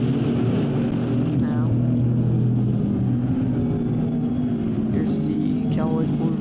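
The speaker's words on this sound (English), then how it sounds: "Here goes the 95" A Lexus GT race car at Watkins Glen roars past at speed, a loud engine note sweeping by close, with a commentator talking over it.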